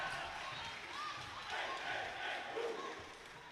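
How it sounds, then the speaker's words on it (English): Animated cheering section of the Lake football team at a Rossford at Lake high school volleyball match, a steady crowd roar with shouts and calls rising and falling in a gym, voices mixed throughout. "We got a nice animated cheering section here, Josh, from the, looks like the Lake football team over there"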